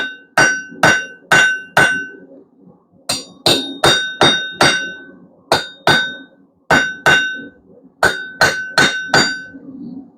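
Blacksmith hammering steel on an anvil while forging a steak flipper, loud close ringing metallic strikes in quick groups of three or four, each with a bright sustained ring, separated by short pauses.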